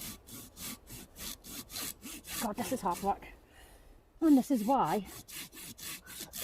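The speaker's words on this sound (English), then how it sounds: "we'll just continue sawing." Steady back-and-forth strokes of a hand saw cutting through a tree branch, loud and rhythmic, pausing briefly while a person speaks before the sawing resumes.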